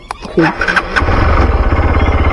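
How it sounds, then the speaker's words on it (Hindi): A motorcycle engine cranks and catches, settling into a loud, throbbing low idle, with people talking over the start. "क्या हुआ बाइक से आवाज़ उठती सुन के"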